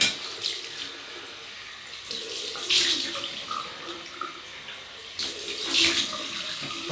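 Cold tap water runs into a sink in a continuous splashing rush, close and steady, with a few brief louder surges as hands move through the stream.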